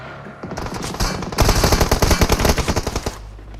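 Rapid automatic gunfire from the mobile battle-royale shooter PUBG Mobile, a loud sustained burst of closely spaced shots building to a dense rattling volley, with no talk over it.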